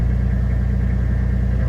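A Toyota Land Cruiser 105 with a 1HZ diesel engine idles just after starting, a loud, close, even rumble with a fast steady throb and no voices.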